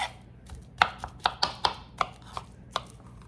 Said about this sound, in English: Slice it up. No perfection needed here with the bananas.